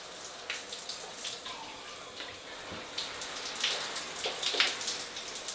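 Shower water running onto a houseplant's moss pole indoors, a steady close hiss of spray with scattered patters and drips, no voices.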